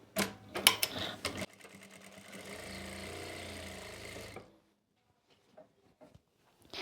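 A sewing machine stitches kurti panels in a steady mechanical run of about three seconds after a few sharp handling clicks, then stops, leaving near silence broken by faint small taps.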